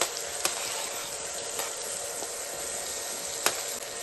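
Chopped cucumber with red chili powder in coconut oil, stirred in a pan: a steady, fairly quiet sizzle with a few faint clicks of the spoon against the pan.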